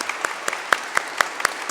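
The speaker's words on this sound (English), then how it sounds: "let's give her a round of applause" Sparse, evenly spaced claps from an audience honoring Mrs. Kristen Brown, a thin rhythmic patter of a few hands rather than a full ovation.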